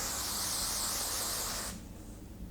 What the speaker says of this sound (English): So I'm just going to spray it on my hair.